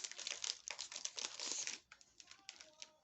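Plastic wrapping being torn and crinkled off a Blu-ray case, close and busy, with dense rustling bursts for about two seconds, then quieter intermittent crackles as the wrap is pulled away.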